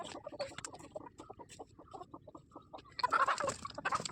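A flock of chickens clucks and squawks as they are let out of a mud coop. Busy overlapping calls rise into a louder flurry of cackling near the end.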